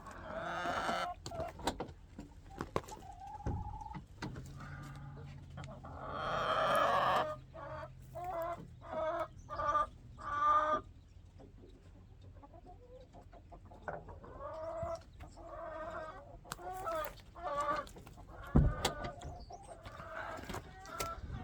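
Backyard chickens cluck intermittently during morning chores, soft and somewhat distant, with occasional louder bursts and handling noises between the calls.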